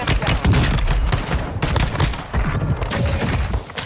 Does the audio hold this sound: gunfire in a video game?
yes